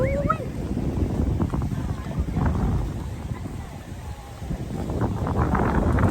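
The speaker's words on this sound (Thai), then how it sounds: "อากาศดีมาก ลมแรงมาก" Strong wind buffeting the microphone on a swaying bridge at Shifen Waterfall in Taiwan, a constant rough rumble with someone talking over it at the start.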